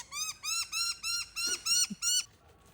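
An aggressive bird gives a rapid series of about eight harsh, rasping squawks in a steady rhythm, loud and close, followed by a brief quiet.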